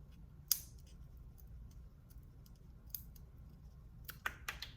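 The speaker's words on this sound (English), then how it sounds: "you're gonna take your scissors and you're just going to cut off the little round piece" A few sharp scissor snips cutting plastic, quiet and close, with a pause between an early cut and a quick cluster of snips near the end.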